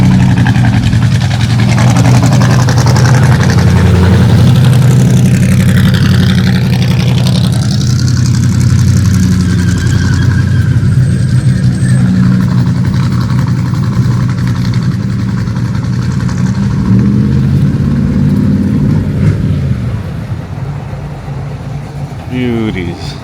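Cars, including an F-150 and an El Camino, roll into an outdoor car meet. A steady, loud low rumble of idling engines is punctuated by occasional revs, with people talking throughout.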